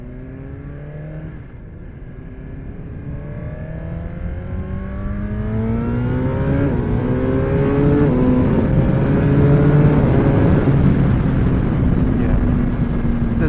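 Suzuki GSX-R1000 sport motorcycle accelerating hard away from a red light, its engine note rising steadily through several gears with brief dips at each upshift, growing louder and strong throughout, with no talk over it.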